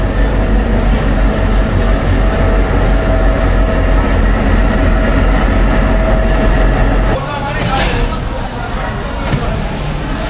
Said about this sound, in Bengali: এই সুদৃশ্য রাজশাহী স্টেশন থেকে ঠিক 11:30 বাজেই আমাদের ট্রেন ছেড়ে দিল চাঁপাইনবাবগঞ্জের উদ্দেশ্যে।